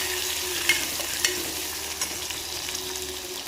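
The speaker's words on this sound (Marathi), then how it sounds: "आता कांदा चांगला फ्राय करून घ्यायचा आहे" Onion frying in oil after ginger and garlic, cooked toward golden, gives a continuous close sizzle with a few sharp spoon clinks and stirring scrapes, with no voices.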